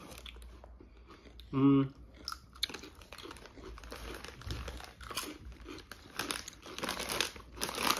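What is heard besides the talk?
eating crunchy sweet potato chips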